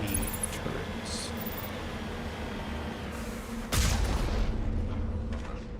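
Turret gunfire in the Mass Effect Legendary Edition video game: a sharp, loud blast rises out of a dense, steady wash of game noise and rumble.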